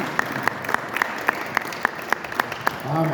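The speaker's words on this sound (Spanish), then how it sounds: "Vamos a dar un aplauso a Jesucristo por su vida." A church congregation claps in unison, with sharp, evenly spaced rhythmic claps about three or four per second over a murmur of voices; a voice rises as the clapping ends.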